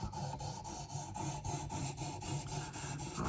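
Knife edge filed on coarse 120 to 240 grit sharpening stones, quick repeated back-and-forth rasping strokes with a slight squeal, close but quiet, alone.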